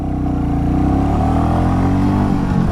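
A 2025 Royal Enfield Meteor 350 with slipper clutch accelerates in first gear, a loud, close single-cylinder engine note climbing steadily in pitch over a few seconds.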